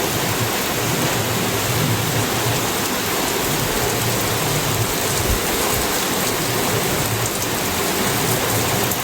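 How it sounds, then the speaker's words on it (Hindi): Heavy, steady rain pours down during a monsoon shower with a parked Bolero getting soaked, a loud, dense hiss that holds constant throughout with no voices. "बाकी आप भी इंजॉय करो बारिश।"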